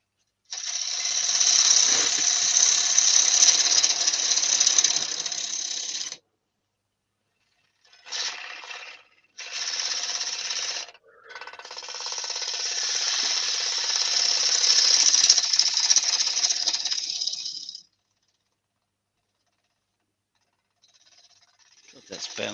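Tool cutting a knotty yew bowl blank, 320mm by 57mm, that bounces as it spins on a wood lathe: loud, harsh rasping in long bursts broken by short pauses, ending in silence.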